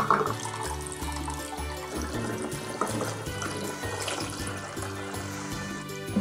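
Lime juice strained through muslin cloth, a soft continuous trickle of liquid running steadily for several seconds, fairly close, with low background hum and no talking.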